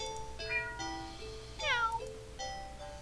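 A house cat meows several times in a row, with rising and falling cries, one of them louder and more drawn out, heard close up over a faint background hum.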